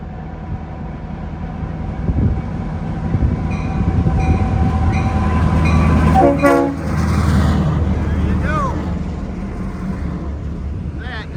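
EMD diesel locomotives, older units, rumble past close by on a main line, with a horn toot and rising wheel and engine noise that fades as the train moves on.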